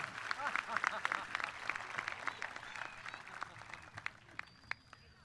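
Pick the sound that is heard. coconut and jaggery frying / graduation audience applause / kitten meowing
graduation audience applause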